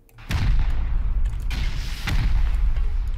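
A rocket launcher firing in the survival video game Rust, a heavy booming blast with rumbling low end that fills the clip, followed by a second thudding impact, loud and close, with no talk.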